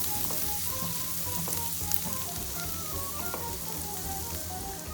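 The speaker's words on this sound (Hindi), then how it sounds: "अब हम इसमें डालेंगे गार्लिक। हल्का सा सौटे करेंगे।" Garlic sautéing in hot oil for paneer momos, a steady, close sizzle and crackle of frying that continues evenly throughout, with faint kitchen tones and no talking.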